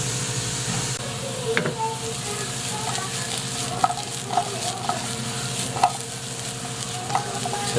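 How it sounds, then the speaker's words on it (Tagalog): Squash sizzles and fries in a pan while being stirred, with scraping and clinking spoon strokes at irregular intervals over a steady close hiss. "Naprito na po yung kalabasa."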